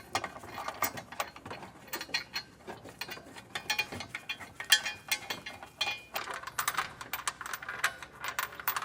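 A hand ratchet snugs down the bolts of a Curt trailer hitch receiver on a 2022 Hyundai Santa Fe, making bursts of fast, close clicking, with brief pauses between runs.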